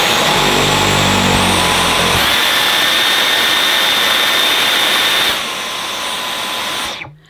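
A Vorwerk VB100 vacuum cleaner runs on Boost over plush carpet with a loud, steady motor roar and whine. Its lower churning rumble drops out after about two seconds, the rest carries on, then the sound fades out near the end.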